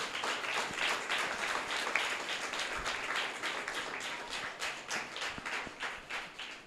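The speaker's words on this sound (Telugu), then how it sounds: "దేవుని గట్టిగా చప్పట్లు కొట్టండి" A church congregation claps together in a steady, fairly fast rhythm of many hands. The applause is sustained throughout and heard at moderate distance with no speech over it.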